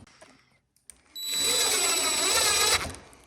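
A power drill pre-drills holes for mounting sliding door hangers, running one steady high-pitched whir for about a second and a half after a couple of faint clicks.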